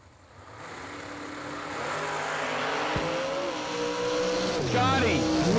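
A Dodge street roadster drag car launches down a quarter-mile track, its engine rising in a long building roar from near to a sustained drone, with an announcer talking over it.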